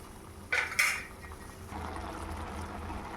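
Maggi noodles are stirred in a pan on a home stove, with two bright metal clinks of a utensil against the pan followed by soft, steady scraping and bubbling at low volume.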